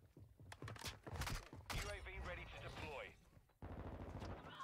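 Bryson 890 shotgun blasts in Call of Duty MW2, several heavy booming shots and impacts mixed with game effects, with a player talking over the action.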